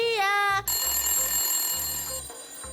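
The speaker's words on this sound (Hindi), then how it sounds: "Your phone is ringing." A telephone rings with a warbling electronic tone, then gives way to a steady high-pitched ringtone under low rhythmic thumps, close and loud.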